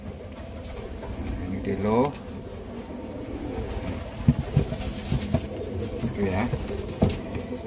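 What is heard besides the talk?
sick pet pigeon cooing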